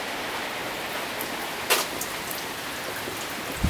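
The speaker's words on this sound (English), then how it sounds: "try and avoid the rain" Steady rain falls outdoors, an even broadband hiss with a couple of sharper drop impacts, no voices.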